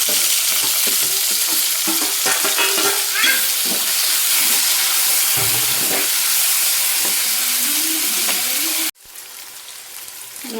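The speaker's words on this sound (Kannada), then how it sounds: "ಇದನ್ನೆಲ್ಲ ಈರುಳ್ಳಿ ಹಸಿಮೆಣ್ಸಿನ್ಕಾಯಿ ಟೊಮೊಟೊ ಇದಕ್ಕೆ ಹಾಕ್ಬಿಡ್ತೀನಿ" Onion, green chili and tomato fry in a hot pan with a steady, loud sizzle and occasional stirring scrapes; the sizzle cuts off abruptly near the end, leaving a quieter background.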